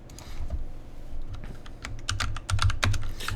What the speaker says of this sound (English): you type in a name for it